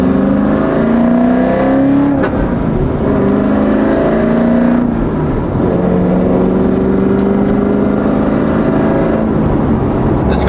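A Lamborghini fitted with a twin turbo kit drives steadily, its engine droning loud and continuous with shifting harmonic tones as it rises and falls in pitch, close and unbroken throughout.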